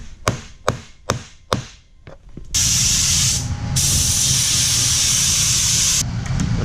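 Neoprene glue sprayed onto a motorcycle seat base and foam in an upholstery workshop: a few sharp knocks, then a loud, steady hiss of spraying that runs for several seconds with one short pause, with no talking.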